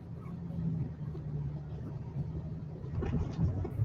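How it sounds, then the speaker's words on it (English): A car engine idles inside the cabin as a low steady hum and rumble throughout, with a brief louder stretch near the end and no clear talk. "we hear the engine too"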